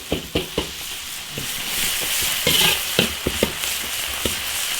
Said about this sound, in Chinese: 我感觉这个鸭白菜这样一炒就可以吃了